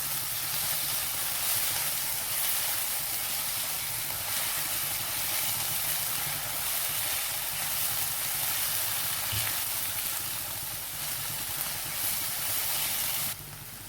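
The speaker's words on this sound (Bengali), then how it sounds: "এবার একটু নেড়ে চেড়ে নিচ্ছি।" Mung dal cooked with a fish head sizzles and hisses steadily in a pan while being stirred, a continuous bright frying noise with a faint low thump partway through and a sudden drop at the very end.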